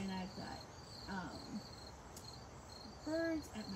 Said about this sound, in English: I've got crickets going